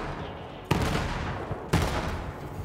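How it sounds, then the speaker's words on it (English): Two sharp, loud explosive bursts from grenades and gunfire in the video game Borderlands 3, about a second apart, each trailing off into a rumbling decay. "It throws like festivals of grenades here."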